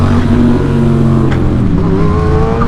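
A motorcycle accelerating while riding, its engine note climbing steadily in pitch under constant wind rush, loud and close with no talking.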